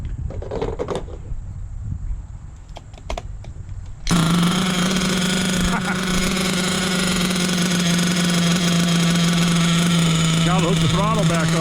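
Ofna LX2 RC car engine starts abruptly and runs steadily at a loud, constant drone, with a high buzzing whine that holds throughout and faint voices beneath it.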